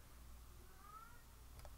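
A faint cat meow in the background, one short drawn-out call over a low steady hum, with no talking.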